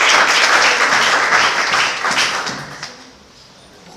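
An audience applauds participants at a casting call with dense, loud clapping that tapers off after about three seconds.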